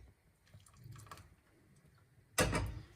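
A little water is tipped into a pot of grape porridge with oat flakes, a short close splash near the end after a quiet stretch.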